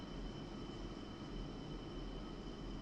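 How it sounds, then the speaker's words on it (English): JF-17 jet in the DCS flight simulator idling as it prepares to taxi, a steady low engine rumble with a faint high whine held constant throughout. "we can begin taxiing over to the runway"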